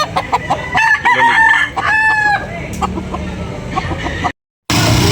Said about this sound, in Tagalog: Guwapong manok mga kapatid.